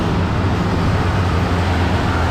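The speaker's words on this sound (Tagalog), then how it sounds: "At ang bibilis din ng lumulusong ng sasakyan." Steady loud roar of vehicles passing on a downhill road near Sumulong, Antipolo, with dense low-frequency engine and tire noise and no distinct individual pass-bys.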